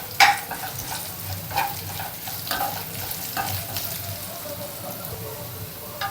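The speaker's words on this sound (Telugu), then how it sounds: "ఈ కాకరకాయ ముక్కలు ఈ విధంగా వేగిన తర్వాత" Bitter gourd pieces sizzle steadily as they fry in a pan, with a few sharp stirring scrapes near the start and scattered clicks over a continuous crackling hiss, fairly quiet and with no talking.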